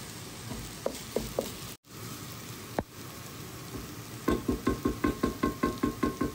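Greens being tempered with garlic, onion and dried chillies in hot oil, a crackling sizzle with scattered pops, then a steady run of rhythmic stirring scrapes.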